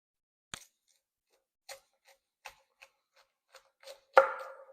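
A knife slicing a large cauliflower head into steaks on a cutting board: a series of crisp, separate chopping cuts at uneven intervals, close and clear, ending in one heavier crunching slice, with no talking.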